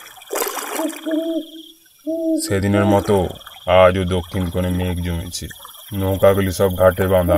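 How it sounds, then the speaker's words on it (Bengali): An owl hoots from a distant tree at night in a Bengali ghost-story scene, two soft low calls at the start, then a narrator speaks over faint background. "পেঁচাটাও ডাকছে দূরে কোথাও এক গাছের ডালে।"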